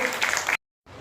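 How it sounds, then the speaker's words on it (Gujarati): An audience at an educational seminar in Ambaji claps for Hemrajbhai during an honouring ceremony, a brief burst of crowd applause that cuts off abruptly, followed by a moment of silence and faint room noise. "જોરદાર તાળીઓથી આપણે વધાવી લઈએ।"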